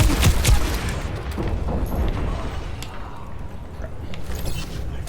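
Sustained rapid gunfire from an enemy turret in the video game Overwatch, dense and loud with bursts of impacts throughout, no voices over it.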